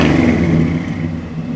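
A 1972 Ford Galaxie 500's 351 V8 with dual exhaust gets a short rev, a brief swell of engine roar up close that eases back toward idle.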